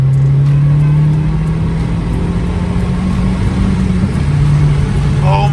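A 2010 MazdaSpeed 3 with noticeable torque steer accelerating hard: a loud, steady engine drone with a low humming tone holds throughout under heavy road and wind roar inside the cabin.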